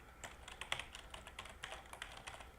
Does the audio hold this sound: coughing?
no